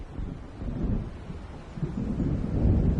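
Deep rolling thunder from an approaching storm in the video game Alan Wake, low rumbles swelling and fading and growing heavier toward the end, with no voices.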